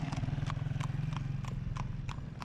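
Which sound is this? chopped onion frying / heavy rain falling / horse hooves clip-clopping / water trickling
horse hooves clip-clopping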